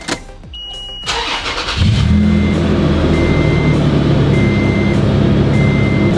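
A car engine cranks and catches after a cold air intake install, settling into a steady, loud idle inside a garage with a faint intermittent beep repeating over the running engine.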